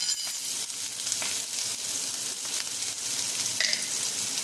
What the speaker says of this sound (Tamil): நம்ம வெங்காயம் பச்சை மிளகா போட்டுக்கலாம் போட்டு நல்லா வதக்கலாம்